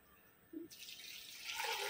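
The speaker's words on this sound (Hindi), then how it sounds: "अभी इसमें पानी डालेंगे" Water pours into a cooking pot after a short clink, the steady splashing stream building and growing louder as the pot fills while preparing soya dal, close by and with no talk.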